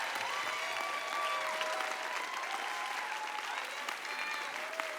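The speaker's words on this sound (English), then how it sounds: "Keep that applause going!" An audience at a live-televised Indigenous music awards ceremony applauds steadily and loudly throughout, the dense clapping sustained without pause, with faint tonal sounds threaded through it.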